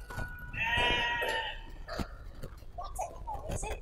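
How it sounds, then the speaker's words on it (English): A sheep gives one clear, wavering bleat near the start, followed by scattered clicks and softer noises, with a person talking faintly in the background. "Is a sheep. Very good. It's a sheep."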